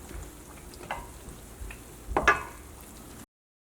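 A wheat-flour snack fries in hot oil with soft bubbling and a few stirring scrapes, including a brief louder clatter, before the sound cuts off.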